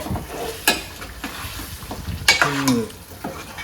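Chicken masala frying in a pan with a low sizzle, broken by a few sharp scrapes and clinks of a utensil against the pan, close by and uneven.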